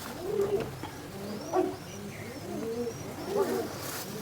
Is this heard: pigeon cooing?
yes